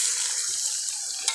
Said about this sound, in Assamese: প্ৰয়োজনমতে পানী এড কৰি দিম।